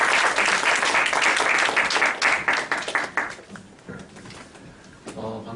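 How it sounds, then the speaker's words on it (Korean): Warm applause from a church congregation welcoming a seminary professor and pastor to the pulpit, dense and loud at first, then thinning to scattered claps and fading into a quieter room. "박수로 모시겠습니다."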